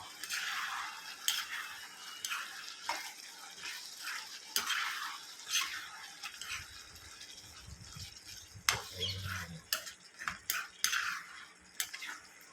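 A utensil scrapes and clinks against a pan as chicken fry is stirred with ground pepper and cumin, in quiet, irregular strokes with a faint sizzle underneath.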